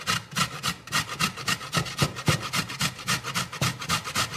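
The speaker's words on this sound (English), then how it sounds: "So you just start grating" Raw beet rasped against the small holes of a metal grater, a loud, close, steady scraping in quick repeated strokes with no talking.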